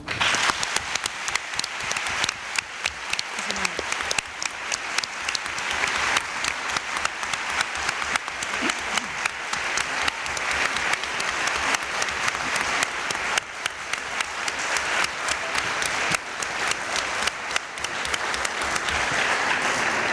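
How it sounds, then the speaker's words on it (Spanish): A university audience at the Faculty of Philosophy and Letters claps loudly and steadily to welcome guest Yolanda Díaz, a long, dense, unbroken ovation of many hands that holds its strength for about twenty seconds with no speech. "me gustaría que recibiéramos con un fortísimo aplauso a nuestra invitada Yolanda Díaz"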